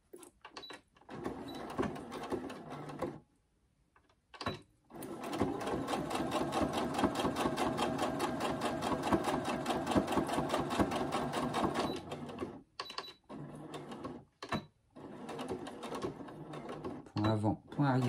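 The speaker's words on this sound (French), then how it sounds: "Je remets ma machine. Et là, je vais faire la piqûre sur mon trait qui est juste là." A domestic sewing machine stitches a seam along a marked line while making a phone pouch, running in a long steady burst with short starts and stops around it and brief speech between runs.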